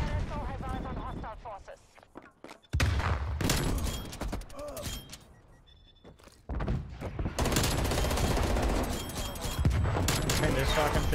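Shotgun blasts in Call of Duty: Black Ops Cold War on the Nuketown map, several loud booming shots with brief gaps, mixed with game noise and players chatting over them.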